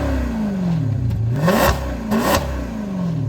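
A 2009 Maserati Quattroporte S with a 4.7 V8 is heard from close by as it settles from a high idle, then blips its throttle twice in sharp, loud revs, each falling back toward a low rumble.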